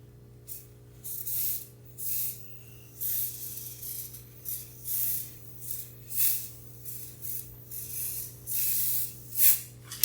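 A can of white spray paint gives a series of short, light hissing bursts, about a dozen quick sprays in an irregular rhythm, close by over a faint steady hum.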